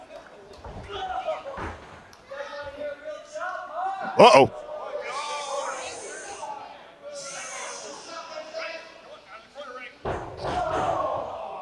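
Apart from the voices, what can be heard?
wrestler stomping on opponent on the ring canvas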